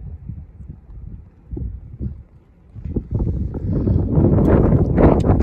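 Wind gusting across the open high country of Grayson Highlands on the Appalachian Trail, buffeting the microphone in low rumbling blasts that swell from fitful gusts into a loud, continuous roar.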